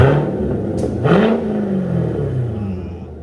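A 2015 Chevy Corvette Stingray with a 6.2L V8 and straight pipes revs up close, its loud engine note climbing and falling through a quick throttle blip before settling into a steady rumble.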